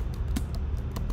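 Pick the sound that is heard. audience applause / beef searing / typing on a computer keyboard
typing on a computer keyboard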